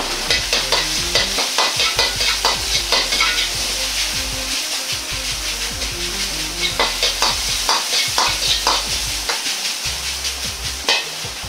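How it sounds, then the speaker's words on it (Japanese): Beaten egg and rice stir-fried together for homemade fried rice, a steady loud sizzle with repeated scraping stirs of the spatula in a rhythmic pattern throughout, no talking. "溶き卵を流し入れ、その上からご飯を乗せて炒めていきます。"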